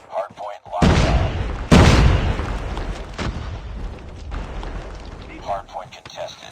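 A frag grenade blast in Call of Duty Mobile during a shoot house hardpoint match, a loud boom with a rumbling tail followed by a couple of sharper bangs, with game voice callouts over it.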